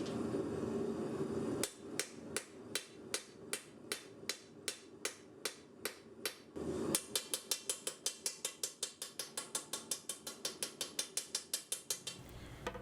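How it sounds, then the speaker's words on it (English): A ball peen hammer strikes steel in a steady series of sharp, ringing blows, texturing a knife spine, spaced at first, then faster and quicker in a long run, close up. "I used a ball peen hammer to create an even texture on the spine"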